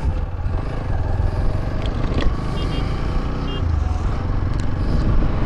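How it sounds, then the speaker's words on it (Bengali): Motorcycle ridden in fourth gear and shifted down through the gears, a steady engine drone with wind rumble throughout, close and fairly loud, while someone talks over it. "তো চলো আমি বাইকটা চালাতে চালাতে তোমার বোঝাই কীভাবে ডাউন শিফটিং করবো।"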